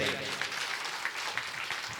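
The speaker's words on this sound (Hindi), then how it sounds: "एक बार जोरदार ताली बजाइए भाई" Applause from an audience at a Hindi comic poetry gathering, a continuous, fairly faint wash of clapping that runs through the whole stretch with no clear voice on top.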